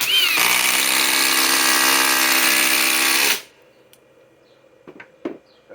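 A Flex Quick Eject impact driver on a 2.5 battery sinks a 5-inch screw in one loud, continuous whirring run of about three seconds that stops abruptly. A few faint clicks and knocks follow in the quiet.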